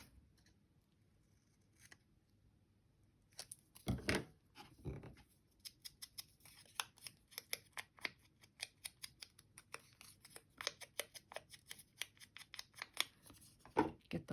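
Scissors snip white edges off paper in a long run of quick, close, crisp cuts with an uneven rhythm. A couple of heavier handling thumps come early, and the blades keep snipping steadily to the end.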